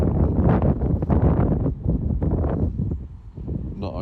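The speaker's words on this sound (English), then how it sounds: "seeing as it is so windy" Strong wind blows outdoors beside a canal, roaring and buffeting loudly and continuously into the microphone with only slight surges and dips.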